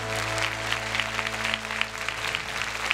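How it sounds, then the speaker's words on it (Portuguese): Audience applause fills a church praise night for the Feast of the Holy Wounds, steady clapping from a large crowd lasting throughout with a low hum underneath. "Vamos aplaudir mais uma vez."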